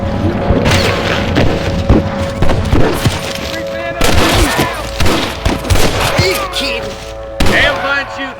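Heavy gunfire in the Red Dead Redemption video game on PC: repeated loud shots and booming volleys crackle in dense bursts throughout, with voices talking over the shooting.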